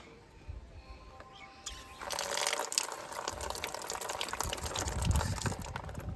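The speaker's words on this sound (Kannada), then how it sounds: "ನೀರು ಬಿಡು" Tap water runs and fills a container, starting faintly and then turning into a steady, moderately close splashing gush that continues to the end.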